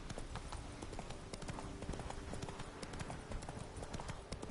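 Hooves of a horse gallop in The Witcher III video game, a fast, steady clip-clop of many close, crisp hoofbeats throughout.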